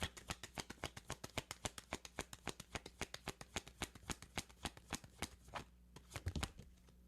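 Tarot cards being shuffled by hand in a rapid, even run of crisp riffling snaps, close and quiet, with no talk.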